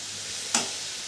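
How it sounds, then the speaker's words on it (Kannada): Tempering for cabbage palya hits hot oil on a gas stove, giving one sharp, loud sizzling burst that quickly fades into a steady low hiss. "ನಾ ಈ ಕಡೆ ಒಗ್ಗರಣೆಗೆ ಮಾಡಕತ್ತೀನಿ ರೀ ಫ್ರೆಂಡ್ಸ್"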